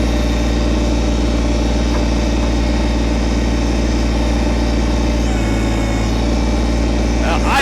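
A Kubota BT602 backhoe's diesel engine runs steadily and loudly close at hand while digging a trench, a constant heavy drone with slight shifts in load.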